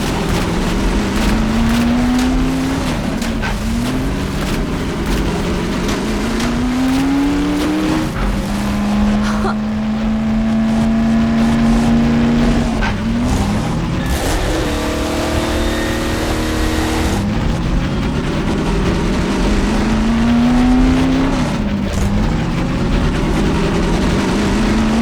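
Car engine roaring as it speeds along in Half-Life 2: Episode Two, loud and sustained with repeated rising revs and gear shifts, plus occasional rumbling and scraping, with no voices.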